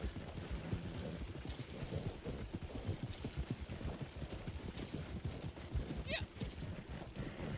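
Rhythmic hoofbeats of a galloping horse in Red Dead Online thud steadily over background game noise, with a brief whinny near the end.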